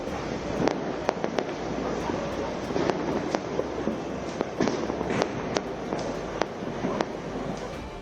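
Fireworks crackle and pop continuously over Delhi, sharp bangs scattered over a dense, steady roar of distant explosions.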